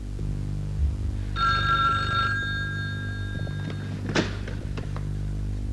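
A telephone bell rings once in a quiet room for about a second over a steady low hum, followed a little later by a soft thump, with no one speaking.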